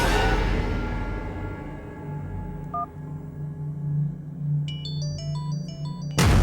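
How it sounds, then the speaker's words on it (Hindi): A mobile phone ringtone plays in a Hindi-dubbed horror film. Short electronic beeps and a chiming melodic pattern rise over a low, steady droning score, and a louder burst cuts in at the end. "मोबाइल से कॉल आ रहा है।"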